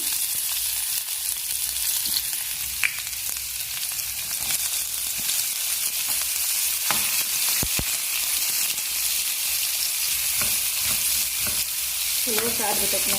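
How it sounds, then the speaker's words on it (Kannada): Onions sizzle and fry in hot oil in a pan, a steady dense crackle running throughout with occasional stirring scrapes, close and fairly loud with no talk. "ಎಣ್ಣೆ ಹಾಕ್ಕೊಂಡೀನಿ ನೋಡ್ರಿ. ಉಳ್ಳಾಗಡ್ಡೆ ಹಾಕ್ತೀನಿ."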